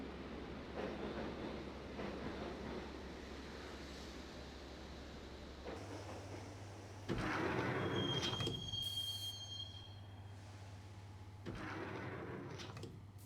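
A train in the video game Max Payne rolls along rails with a steady low rumble and rhythmic clatter, broken by a thin metallic wheel squeal in the middle.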